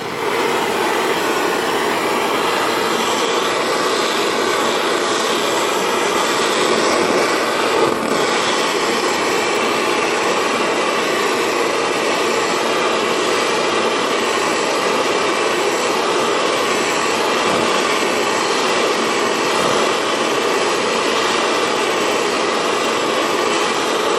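An acetylene torch roars steadily while heating the bottom of a crucible for melting scrap silver, a continuous broadband hiss that holds loud and unbroken throughout with no talk.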